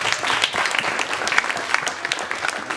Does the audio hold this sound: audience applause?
yes